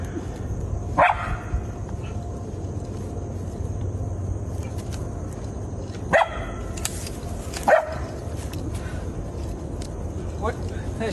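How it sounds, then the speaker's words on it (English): A wild coyote gives a few sharp, isolated barks spaced several seconds apart, cutting through a steady low background hum during a police encounter. "It's a wild coyote."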